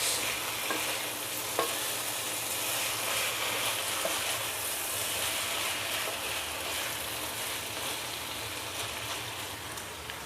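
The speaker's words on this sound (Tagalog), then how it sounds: "Sunod na natin yung ating string beans o sitaw. Mix para ma-mix." String beans and pork stir-frying in a pan give a continuous, even sizzle with occasional faint stirring clicks, heard close and alone.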